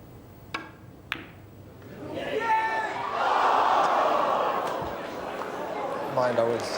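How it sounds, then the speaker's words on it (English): Loud crowd roar at the 1985 snooker world final between Taylor and Davis, swelling into sustained cheering and applause after a couple of sharp cracks, with voices shouting through it. "Just listen to the crowd. They're remarkable."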